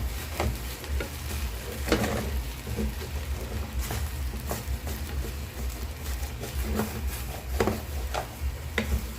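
Sugar cooks down in coconut milk for caramel, a soft simmering sizzle with the repeated scrape and knock of a spoon as it is stirred, close and steady.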